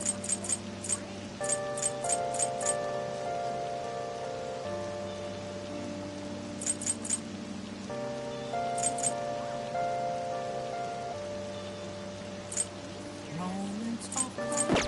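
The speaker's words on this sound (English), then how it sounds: "When's the rain gonna let up?" Steady rain falls in the video game Persona 5 Royal, a soft continuous patter under sustained music with a repeating melodic pattern; no talking.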